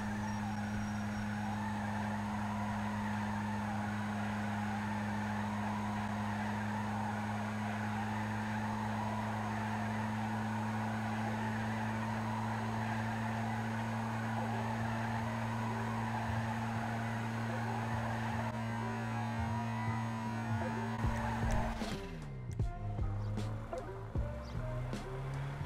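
Rat Loader, a stock unmodified pickup in GTA Online, drives with a steady low engine drone throughout, ending in an abrupt skid and engine cut near the end, with no talk.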